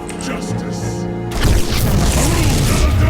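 A sudden deep boom cuts in midway as an assimilator is destroyed in a strategy game map. A rumbling crash follows and continues under music and game sounds.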